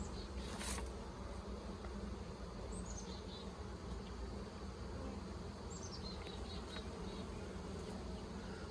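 Honey bees hum steadily at an open, healthy hive, a dense continuous buzz with a few individual bees whining past close by.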